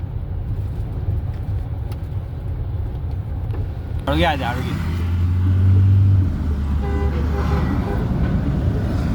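Cars roll through a Republic Day car rally near a college, with a low engine rumble, a sharp horn toot midway and voices in the background.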